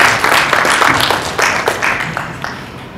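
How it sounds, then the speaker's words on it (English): Audience applause for a speaker at a Malaysian citizens' forum session, dense hand clapping filling the room at a steady level, with brief voice fragments mixed in. "let's give him applause"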